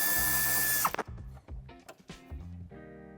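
A power tool whirs steadily on a DS 4 bumper during hitch installation, then cuts off into a series of close metallic clicks, ratcheting taps and clunks as screws and trim pieces come loose, with no speech.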